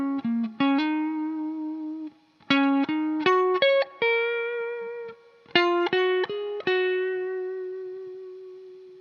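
Electric guitar playing a riff, close and clean with single plucked notes and short bursts of quick picked notes ringing out between them, heard alone.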